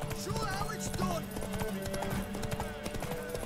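Horse hooves clip-clop steadily in The Witcher 3 Next-Gen, a quick rhythmic trot heard up close beneath game music and a voice talking.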